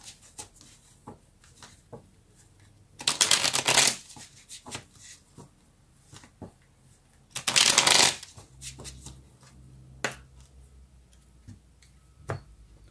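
Tarot cards are shuffled in two loud riffling bursts, with soft taps and clicks of the deck being handled and squared between them, close up and with no talking.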